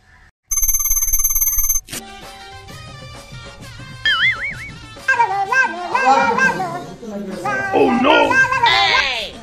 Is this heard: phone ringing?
yes